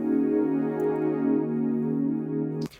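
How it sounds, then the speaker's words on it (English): Deep-state pad from Serum holding simple, steady sustained chords, smooth and atmospheric, fading slightly before a short click at the end. "the first thing we have here is the deep state pad,"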